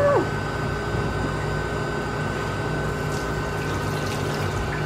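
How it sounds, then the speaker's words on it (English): Water running through a colon hydrotherapy machine, a steady, even hiss of flowing liquid with a constant low mechanical hum beneath it, continuous and close throughout. "the nurse came to turn on the water."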